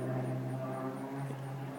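An airplane performing at an air show drones steadily overhead, a distant engine hum heard from a backyard with no talking.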